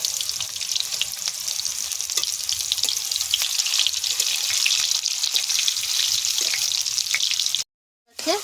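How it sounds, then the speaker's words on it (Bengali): Salted potatoes shallow-frying in hot oil for a pork biryani give a loud, continuous crackling sizzle that runs unbroken, then cuts out for a moment near the end before resuming. "এবার শুধু লাল লাল করে ভেজে নেব"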